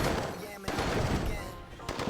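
Technicians open fire in C&C Tiberian Sun, a quick patter of small-arms shots rattling at moderate volume over a busy battle background, with a commentator talking over it.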